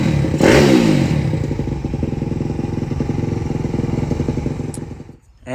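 A Pagoda 190 pit bike engine runs loud and close, revving hard at first then holding a steady, throbbing, clattering idle-like rhythm before cutting off near the end.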